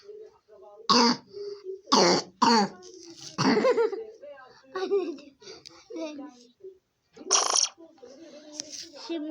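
Several sharp coughs and throat clearings break up a woman's chatter, bursting out loudly between stretches of speech.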